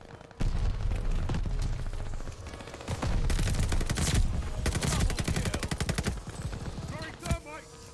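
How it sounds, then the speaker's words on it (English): A thermite grenade explodes in Call of Duty Vanguard amid a loud barrage of gunfire and blasts, with a dense burst at the start and repeated bursts after, under intermittent voices. "Wow, that thermite actually hit."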